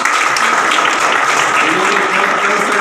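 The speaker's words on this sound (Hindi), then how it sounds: "तो इनके लिए बहुत जोरदार तालियां" Loud, dense applause from a gathered audience at a factory event in Jharkhand, sustained and steady throughout with crowd noise mixed in.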